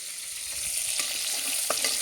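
Bottle gourd pieces sizzle in a pan while being fried for Kashmiri-style dish with mutton, a steady crackling hiss with a few stirring scrapes and no talking.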